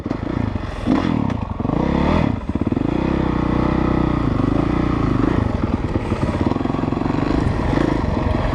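A 2017 Honda CRF 450 dirt bike engine drones loud and close while the bike is ridden on a dirt raceway, with the pitch rising and falling as the throttle changes and clattering under the engine note.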